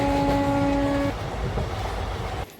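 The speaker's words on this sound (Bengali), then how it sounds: "যাচ্ছি ট্রেনে চেপে" A passenger train sounds a loud, sustained horn, then a steady rolling rumble carries on until it drops off sharply near the end.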